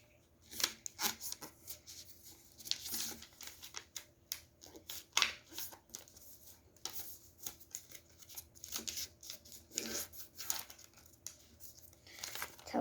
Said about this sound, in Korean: 세 군데도 모두 해주시면 됩니다.